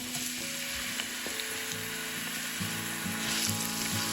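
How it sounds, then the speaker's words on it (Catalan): Chopped onion fries in hot olive oil in a casserole, giving a steady, fairly soft sizzle that runs throughout with light tonal music underneath. "En una cassola amb l'oli ja calentet, començo sofregint la ceba que he picat"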